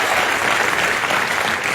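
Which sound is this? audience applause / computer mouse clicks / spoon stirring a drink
audience applause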